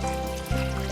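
Water poured from a dhal pot into a cooking pot of curried corn, a short steady pour that shifts its tone partway through, with no voices.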